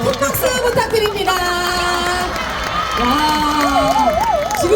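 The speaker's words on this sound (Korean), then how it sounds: "다시 한번 큰 박수 부탁드립니다" A festival crowd at an evening city-day celebration claps and cheers loudly, with shouting and whooping voices rising over continuous applause and some music-like tones underneath.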